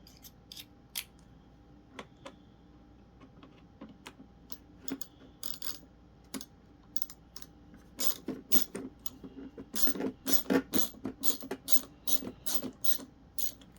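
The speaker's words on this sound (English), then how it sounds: "I actually prefer to use a ratcheting screwdriver for these screws." A ratcheting screwdriver clicks while backing screws out of a Bissell 6585 carpet cleaner, with sparse ticks at first, then dense bursts of rapid ratchet clicks, close and clear.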